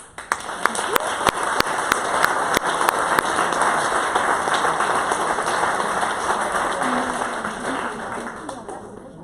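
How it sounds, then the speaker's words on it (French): A crowd applauds at a coding bootcamp demo day in Marseille, steady clapping filling the room with a few sharper claps standing out, loud and close, then slowly easing off. "On vous applaudit."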